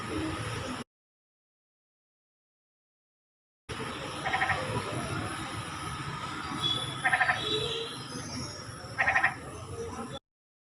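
A Jordan's bullfrog calls outdoors with a nasal, bleating croak like a goat, three short pulsed calls standing out over a steady background of night insects and ambient hiss, broken by a stretch of silence.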